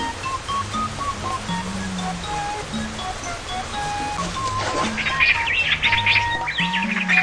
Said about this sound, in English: Look, Mew Mew, there are some birds.